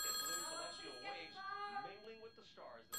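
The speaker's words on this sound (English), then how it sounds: "Mom, the phone's ringing. Do you hear it?" A telephone rings steadily with an electronic trill while a person talks over it close by.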